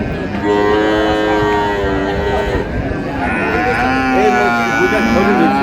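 Cattle at the Raniganj livestock market in Dinajpur, including a young bull and dairy cows with calves, moo loudly and repeatedly in long drawn-out calls that overlap, with steady market crowd noise beneath.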